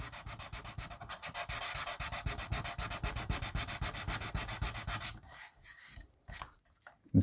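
Rapid rhythmic back-and-forth strokes of sandpaper on an RC car body, close and steady for several seconds before slowing into a few scattered rubs.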